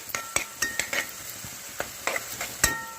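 Onion and green chillies frying in a pan for a potato fry, with sharp clicks of a spoon stirring against the pan over a steady sizzle, close up and with no talk.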